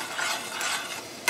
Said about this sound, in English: Stir the rice.